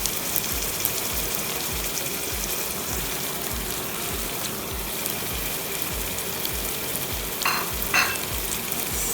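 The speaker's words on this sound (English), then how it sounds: "Stir well into the mixture." Powdered spices, including royco and pilau masala, are stirred into a simmering mushroom mixture in a pan, giving a quiet, rhythmic scrape of steady strokes over a soft bubbling sizzle.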